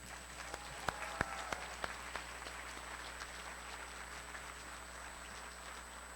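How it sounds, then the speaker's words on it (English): Light applause rises at a distance-learning class of 2023 graduation ceremony for a foundations award winner, a handful of sharp claps standing out early over a soft, continuous patter. "So please give a round of applause to our Foundations Award winner"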